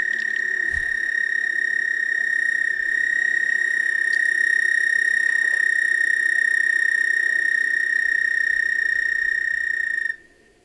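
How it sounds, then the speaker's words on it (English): An American toad gives its springtime mating call, a single high, unbroken musical trill held for about ten seconds. It sounds loud and close, then cuts off abruptly. "That is actually the American toad. Yeah, the American toad, that is their mating call in the springtime."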